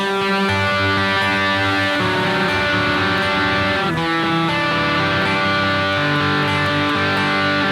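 A heavily distorted electric guitar plays a dense, sustained punk rock riff with chord changes, loud and saturated from start to finish with no voices.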